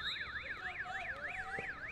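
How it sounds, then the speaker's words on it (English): A warbling electronic siren sounds at the end of the third chukker of a schoolboys' under-16 field hockey match, its rising and falling wail steady and fairly faint throughout. "The siren goes off for the end of the third chukker."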